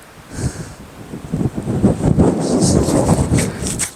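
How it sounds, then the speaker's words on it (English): Gusty wind buffets a microphone on a hilltop at The Roaches, swelling in low rumbling surges that grow stronger over a few seconds. "This wind's picking back up again"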